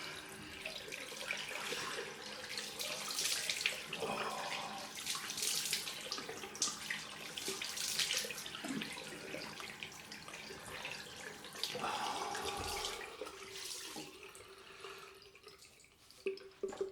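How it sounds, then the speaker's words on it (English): Tap water runs steadily into a sink for a cold rinse after a straight-razor shave, a continuous splashing flow with occasional drips and brief handling noises, heard alone without talking. "Let's go for the cold rinse."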